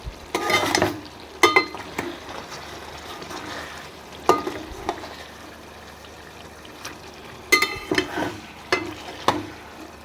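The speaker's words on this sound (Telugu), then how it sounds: "మసాలా అన్నీ ఇప్పుడైతే కలుపుదాం." Masala, salt and chilli powder being stirred into food frying in oil, sharp scraping strokes in clustered bursts with quiet sizzling gaps between, close and fairly loud.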